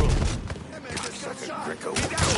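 A loud, dense barrage of gunfire in the crime game Mafia III, shots cracking in quick volleys with heavy booms underneath, close and continuous throughout.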